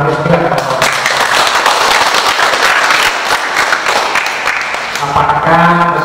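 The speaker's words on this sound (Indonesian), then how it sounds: "Kita berikan aplaus juga kepada" An audience at a university philosophy faculty event applauds, dense steady clapping from many hands filling the room for several seconds, with a voice speaking over it at the start and end.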